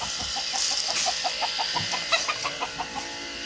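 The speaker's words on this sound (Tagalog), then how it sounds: "Ang ganda ng manok, oh." A chicken clucks in a quick series of short, repeated notes, close by, with a soft outdoor hiss behind it.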